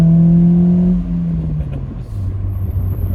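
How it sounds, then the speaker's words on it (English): A Peugeot 306 convertible with a raspy exhaust drives along, its engine note droning steadily and then dropping in pitch as it eases off, close and loud with no talk. "because this has got the slightly more raspy exhaust"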